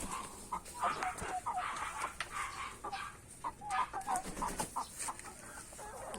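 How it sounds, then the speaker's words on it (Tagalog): Hens cluck softly in a backyard flock, a run of short, repeated clucks at moderate distance over a faint background hum. "Ito po ang aking mga inahin."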